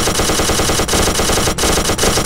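Machine gun fire in a Minecraft zombie-apocalypse mod, a loud, rapid continuous stream of shots with a few brief breaks, close and dominating, with no talk.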